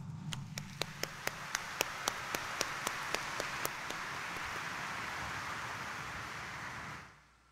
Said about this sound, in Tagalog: iparinig natin sa mahal na Senyor ang mas malakas na palakpak